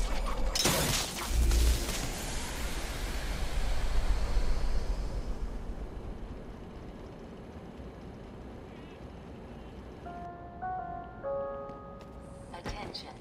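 In Batman: Arkham Asylum, a struck extractor fan powers up with a loud mechanical whoosh and rising rumble that gradually fades, followed by faint electronic tones toward the end.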